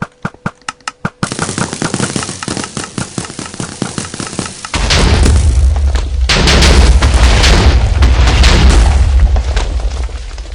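Primed TNT dropped from a dropper in the Minecraft video game, heard as a quick series of sharp clicks followed by a loud, sustained roar of overlapping explosions that rumbles and crackles close and heavy for several seconds.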